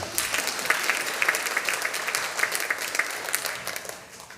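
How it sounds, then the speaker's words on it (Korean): Church audience at a training session for new-member volunteers claps in a steady, dense round of applause lasting about four seconds, with no voices, tapering off at the end. "박수하겠습니다."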